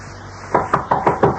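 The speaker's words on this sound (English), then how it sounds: "I knocked and I knocked." Six quick, evenly spaced knocks on a door in an old-time radio drama, rapping close and sharp against a quiet background.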